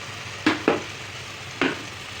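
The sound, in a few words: chicken added to pan, frying and stirring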